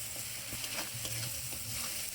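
Spice paste with salt frying in a pan for a village-style khichuri, a soft, steady close sizzle broken by a few light stirring scrapes.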